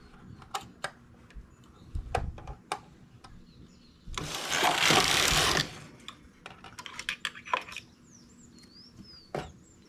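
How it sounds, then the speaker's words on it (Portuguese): A knitting machine carriage sweeps across the needle bed while a ribbed adult tank top is knitted, a loud broadband rush lasting about a second and a half, set among scattered mechanical clicks and ticks before and after. "Passo o ponto para a máquina e faço a diminuição."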